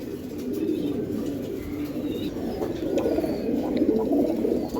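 Giribaz pigeons coo in a loft, a low, continuous, overlapping murmur of several birds, close and fairly loud, with faint higher chirps above it.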